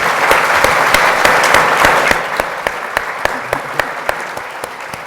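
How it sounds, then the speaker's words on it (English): Audience applause for panel members at an Australian Medical Association event, loud and dense at first, then thinning into scattered individual claps before fading. "So a big round of applause to the panel members"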